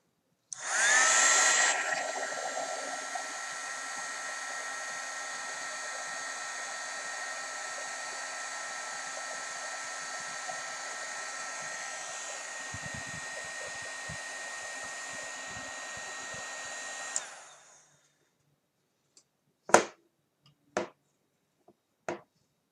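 A heat gun reheats heat shrink on the plug wiring of a NEMA 23 stepper motor. It gives a steady blowing whir for about seventeen seconds and then switches off, followed by a few sharp clicks and taps.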